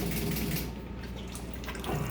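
Water runs steadily during the second rinse of a Total One coffee machine, a close, continuous splashing flow like a tap filling a sink, with no talking.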